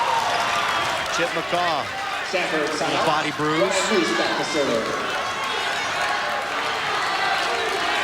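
A home crowd at Pepperdine roars steadily through a 1993 Stanford versus Pepperdine volleyball match, a dense, continuous cheer that sits under an announcer talking.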